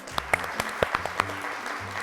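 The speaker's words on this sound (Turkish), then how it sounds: "Alkışlar geliyor." A studio audience at a game show claps sparsely, a handful of distinct sharp claps scattered over a quiet background with faint tonal sounds underneath.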